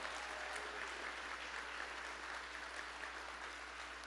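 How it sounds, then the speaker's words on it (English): Audience applause fills the hall at a 2025 Blue Raider sports hall of fame induction ceremony, a steady, even roar of many hands clapping that holds throughout at a moderate distance. "Let's give them all one more great round of applause."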